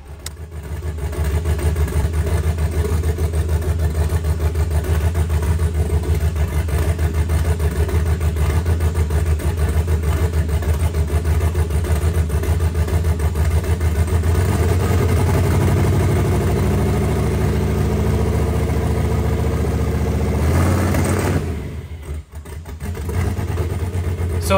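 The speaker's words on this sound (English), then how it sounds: "if you just heard that little rev, how it kind of like went up, did like a little stutter and came back down and almost stalled out" An engine running on a Terminator X setup holds a loud, steady idle, then revs up, stutters and drops back down, nearly stalling near the end. It is heard close and continuously, with no talking.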